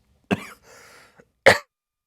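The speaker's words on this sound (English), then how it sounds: "a coughing fit" Two harsh, sharp coughs about a second apart, loud and close, with a softer rasping throat noise between them and no talking.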